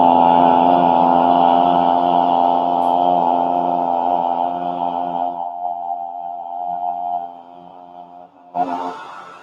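A group of people in a yoga session voicing a long, deep, sustained roar in imitation of a lion, a droning vocal tone that slowly fades, followed by a brief rough burst near the end.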